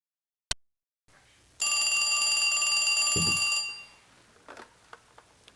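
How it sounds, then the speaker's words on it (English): A telephone rings in the PC game J. B. Harold: Blue Chicago Blues: a loud, continuous electronic bell trill lasting about two seconds, preceded by a sharp click and followed by a brief low thud and light clicks. "Answer the phone."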